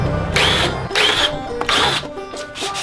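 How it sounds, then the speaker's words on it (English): A power drill bores holes in wood in three bursts of whining spin, each rising and then stopping, close and loud with short pauses between, and a softer fourth run at the end. "and then I'll just drill them."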